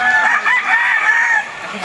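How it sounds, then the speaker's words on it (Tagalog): Gamefowl roosters at a farm in Bacolod Silay, Philippines crow and cluck close by, with loud overlapping calls that fill the scene. "So tingnan natin itong mga manok dito sa baba mga idol."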